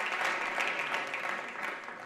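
Spectators at a men's 50m rifle prone final in Granada applauding a shooter's shot, brisk continuous clapping from a modest crowd that fades slightly.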